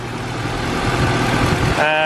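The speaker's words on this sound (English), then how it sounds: "I mean, the motor sounds good." A Honda Civic EG, built 18 years ago and showing a check engine light, idles with a steady, even engine hum that stays loud and close for the whole stretch.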